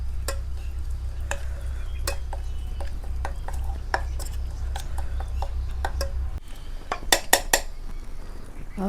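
Utensil stirring garlic chutney ingredients and oil together in a metal pot, with sharp clinks and scrapes at irregular intervals over a steady low background hum, a few louder knocks near the end.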